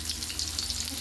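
Garlic sautés in a pan for Ilocano pinakbet, giving a steady close sizzle and crackle with no talking.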